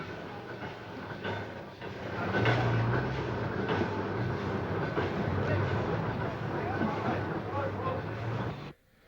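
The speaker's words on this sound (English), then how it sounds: "A steam crane loads up one of the 2 freight trains running that day." A steam-hauled freight train rolls past in a rumbling, continuous wash of wheel and wagon noise that swells after a couple of seconds, then cuts off abruptly, with a voice talking over it.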